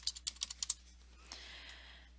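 Quick run of about eight crisp keystrokes on a computer keyboard while renaming a folder in animation software, close and clear, followed by a softer, hissy shuffle and faint clicks as the typing stops.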